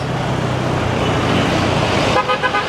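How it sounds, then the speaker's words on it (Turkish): A car horn toots several short times in quick succession near the end, over steady road traffic and engine rumble. "Basa basa gidiyorsun kornaya."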